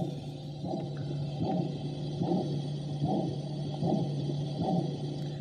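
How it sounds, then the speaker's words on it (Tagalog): A soft, muffled heartbeat pulse from a Pursay portable sound machine repeats steadily, about one beat every three-quarters of a second, over a low background hum. "it imitates the heartbeat"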